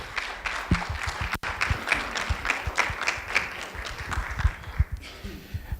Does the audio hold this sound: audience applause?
yes